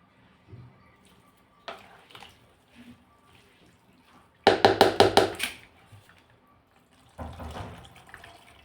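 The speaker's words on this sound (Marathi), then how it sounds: "गरम पाणी टाकून ठेवायचं आहे" Hot water pours in a short splashing burst over sago pearls in a vessel, lasting about a second, with faint clinks and handling noises before and after in a quiet kitchen.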